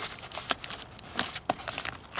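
Cardboard toy packaging for a Jurassic World Tyrannosaurus Rex figure is torn open by hand in short, irregular crinkling rips and crackles, a handful of close sharp bursts with no talking.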